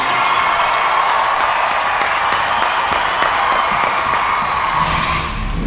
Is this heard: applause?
yes